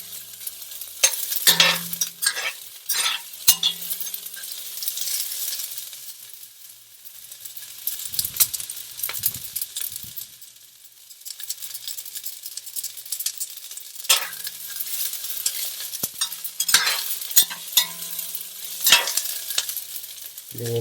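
Food browns in a pot over medium-high heat for Caribbean-style black beans, a steady bright sizzle broken by occasional stirring scrapes and clinks, close and unaccompanied by talk.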